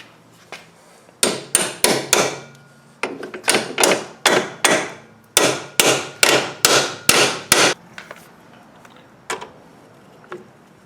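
Sharp hammer taps drive a 2005 Saturn Ion strut onto its splines, striking in quick bursts of three to five blows with short pauses between, loud and close, followed by a few fainter scattered knocks.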